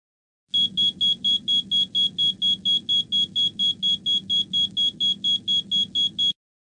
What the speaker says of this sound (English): The evacuation indicator flashes, and the specific horn is triggered.